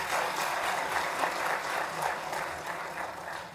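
Audience applause at a Supreme Court of India farewell function for Justice Sudhanshu Dhulia, a steady dense clapping from a sizable crowd filling the room for several seconds with no talk over it.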